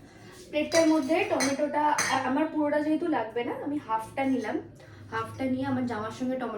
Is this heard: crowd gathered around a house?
no